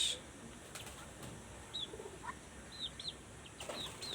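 Faint, scattered high peeps and chirps of young local-breed chicks over a quiet, steady background hiss, with a few soft rustles.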